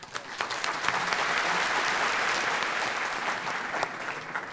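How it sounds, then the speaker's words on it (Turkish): An audience at a talk applauds steadily for several seconds, a moderately loud, even wash of many hands clapping at once with no talking over it. "Peki alkışlıyoruz."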